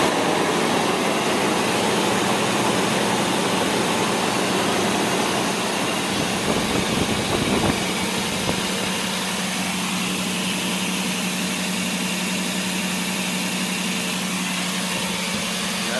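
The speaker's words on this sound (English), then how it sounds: "I'm about to crank it over, and you'll get to see the end result of my timing belt change." A Toyota Tundra engine runs after a timing belt change, giving a continuous, loud, steady whir and hum with a brief rougher patch midway, then settling into an even drone, with no talk.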